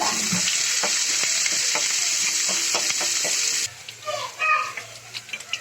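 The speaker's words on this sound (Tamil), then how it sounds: "கொஞ்சமாக கருவேப்பிலை, அப்புறம் ஒரு மீடியம் சைஸ் வெங்காயம் போட்டு நல்லா வதக்கிக்கலாம்." Curry leaves and a medium onion sauté in hot oil in a pan while making rava upma, giving a loud, steady sizzle that drops off partway through into softer stirring clatter.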